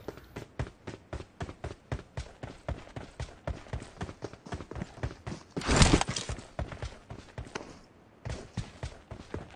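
In the PUBG video game, a character runs with rapid, evenly spaced footsteps that thud close and clear, briefly masked by a loud burst of crackling noise before the running pauses and starts again.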